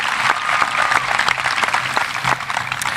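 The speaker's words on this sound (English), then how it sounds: "let's show our appreciation with a well-deserved round of applause for Lieutenant Colonel Chris Engel" A steady round of applause from a crowd at a high school commencement ceremony, dense clapping that holds at an even level throughout without any voices.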